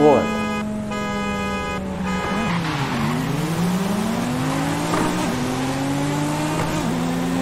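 A 600-horsepower car racing in Forza Horizon 5, loud engine revving and climbing through the gears with tire squeal, while someone talks over it throughout.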